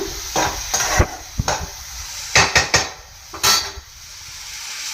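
A pot of leafy vegetable curry simmers and sizzles while a spoon scrapes and knocks against the metal in several sharp, irregular strokes over a soft bubbling hiss.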